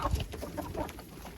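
Hens in a damp enclosure cluck eagerly while waiting for yeast, a busy, close cluster of soft overlapping clucks and murmurs running continuously at low level.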